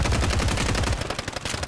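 Automatic gunfire in Call of Duty Warzone, a rapid, loud stream of shots that thins into scattered bursts toward the end, with no one speaking.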